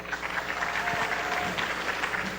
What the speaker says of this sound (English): let's clap for Miss Chloe